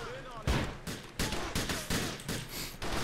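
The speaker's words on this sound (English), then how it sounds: "Oh, Jesus, what is that? That was an automatic pistol, I think." Automatic pistol fire in a video game comes as several loud, close bursts of rapid shots spread over a few seconds, with short pauses between the volleys.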